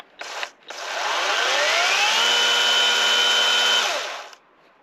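A budget cordless electric chainsaw gives a brief blip, then revs up and runs steadily at a high whine for several seconds before cutting off, loud and close.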